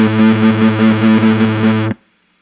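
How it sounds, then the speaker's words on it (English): An electric guitar played through an Orange Crush 20 amplifier with the gain turned up, a loud distorted sustained chord pulsing gently before cutting off sharply into silence. "Did you like the amount of gain you heard from this amp?"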